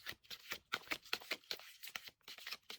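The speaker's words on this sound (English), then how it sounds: "So I'm gonna have a deep shuffle first" Tarot cards being shuffled by hand, a run of quick crisp riffling flicks and soft slaps in irregular bursts, close and fairly quiet with no talking.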